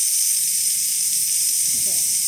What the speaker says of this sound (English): so there's the steam, and that's about it